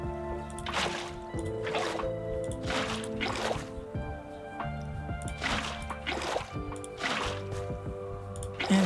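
Underwater-style liquid gurgles and drips in Minecraft Bedrock, with a heart of the sea conduit pulsing in water, repeated surges every second or so over a steady low ambient hum, no talking.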